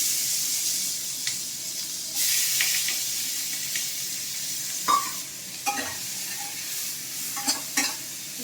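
Onions fry in a hot pan for a chicken soup, sizzling continuously with a hissing wash, while intermittent scrapes and knocks from stirring come through close by; no one speaks.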